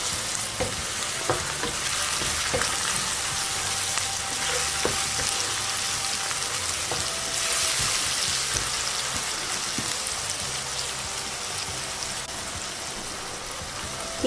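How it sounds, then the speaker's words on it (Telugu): Cumin powder, coriander powder and chili powder fry in oil for a fish pulusu, giving a dense, even sizzle that runs without pause, with scattered soft pops and crackles close by. "దీనిలో ఇప్పుడు జీలకర్ర పొడి, ధనియాల పొడి, కారము మొత్తం 1 నిమిషం వేగనివ్వండి"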